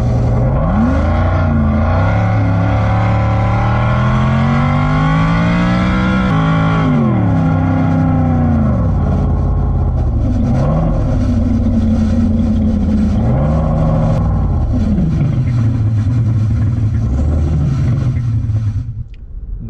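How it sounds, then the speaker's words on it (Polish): An American V8 engine revs loudly and close, its deep note swinging up and down through repeated throttle pulls and settling between bursts, with no talking over it. "nic tak nie brzmi pięknie jak amerykański V8"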